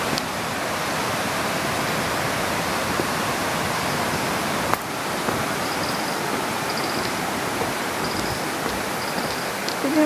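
Waterfall at Tai Tam Reservoir after rain, a steady broadband roar of falling water, close and loud, unbroken for the whole stretch with no talk.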